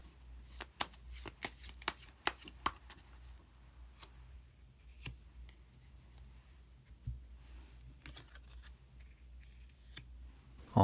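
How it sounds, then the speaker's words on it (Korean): Tarot cards being shuffled and drawn, with crisp riffling clicks and snaps bunched in bursts early on, then scattered softer flicks and taps, close and fairly quiet with no talking. "카드 한 장을 더 뽑고"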